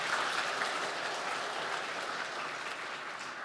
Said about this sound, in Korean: 박수 한번 쳐주시면 좋겠습니다.